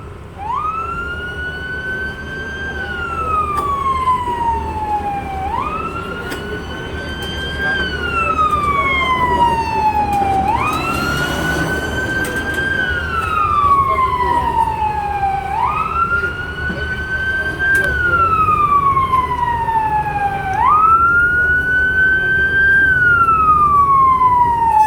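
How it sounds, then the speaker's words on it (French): An ambulance arrives with its siren on, sounding loud and close as a repeating rising and falling wail with about five slow cycles, over a low rumble of traffic and nearby activity. "L'ambulance vient d'arriver."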